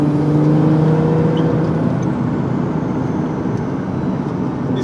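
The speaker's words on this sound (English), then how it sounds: "Pressing on the gas." Nissan GT-R under throttle, a loud sustained engine roar from inside the car with a rising whir, steady and dense across the whole stretch with no voices.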